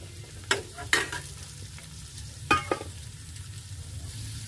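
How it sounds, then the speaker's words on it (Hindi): Diced potatoes and onions fry with a soft, steady sizzle in a pan while a spoon stirs them in a few sharp scrapes and taps, close by and without speech. "और आलू को अच्छी तरह से भून लें"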